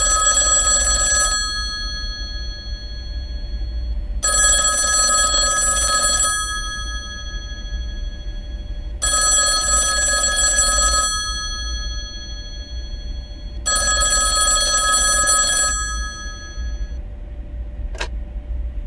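A telephone rings in the video game Silver Creek Falls, four evenly spaced electronic bell bursts of about two seconds each, loud and clear over a low steady hum, followed by a single short ding.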